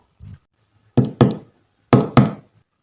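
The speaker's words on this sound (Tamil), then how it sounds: "கதவை தட்டுவோம்." Someone knocks on a door: one soft thump, then two quick pairs of firm, close wooden raps, with silence between them.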